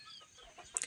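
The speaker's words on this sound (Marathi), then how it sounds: "या अशा बघा प्युअर गावठी कोंबडे आहेत." Desi country chickens and roosters on a farm give a brief, faint cluck at the end of a short, quiet stretch of background noise.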